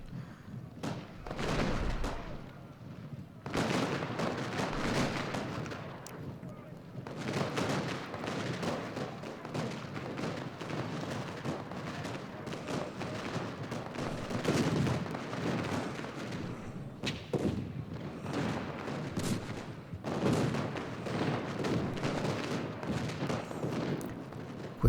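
Cannon fire from artillery batteries on a hill in the Civil War strategy game Ultimate General: Gettysburg, with dense, continuous booming and rumbling battle noise that stays loud throughout, without pauses.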